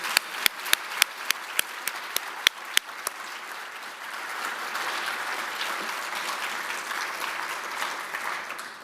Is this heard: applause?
yes